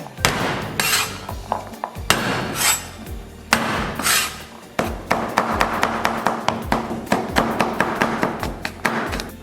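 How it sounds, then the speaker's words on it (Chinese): Garlic cloves are smashed and chopped into mince on a kitchen board, loud knife whacks and a fast run of rhythmic chopping taps, close by with no talking. "然后咱们把蒜给它拍成末。"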